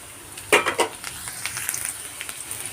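Urad dal crackles and pops in hot oil, a few sharp bursts up front followed by a softer, steady sizzle with light clinks.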